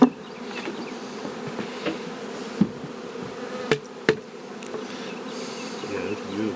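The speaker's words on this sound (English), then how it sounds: "You can see these bees are generally Caucasian." Caucasian honey bees buzz around an open hive in a beeyard. The hum is steady and dense, with a few sharp knocks from hive handling.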